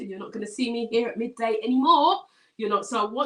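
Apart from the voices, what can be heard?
None of the usual background noises is heard.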